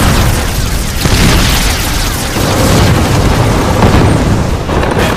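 Loud, dense battlefield explosions and shell bursts from tank combat in the Pacific war, heavy booms rolling one into another with constant low rumble and no pause throughout.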